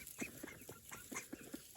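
Several short poultry calls from chickens roosting in the dark among ducks under a tree, scattered bursts of clucking at moderate distance over a soft outdoor background.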